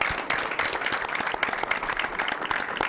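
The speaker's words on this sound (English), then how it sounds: "give a round of applause" A burst of applause from a group, many hands clapping loudly and steadily for a few seconds.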